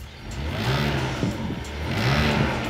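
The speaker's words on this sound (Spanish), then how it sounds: "Ahora voy a acelerar con ella conectada para que apreciéis el sonido." A BMW E60 engine revs up twice, rising and falling in pitch, close and moderately loud with no talking, with a vibration that does not sound right.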